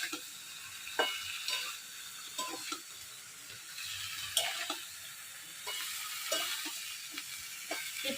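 Vegetables frying in a pan for a vegetarian curry with ginger, sizzling softly throughout with repeated scraping stirs and clinks at irregular intervals, close and fairly quiet.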